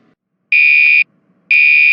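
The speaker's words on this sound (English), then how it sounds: "Class, the fire alarm is going off." A school fire alarm sounding after the pull station is pulled, two loud, piercing, steady half-second electronic tones separated by a brief gap, close and alone.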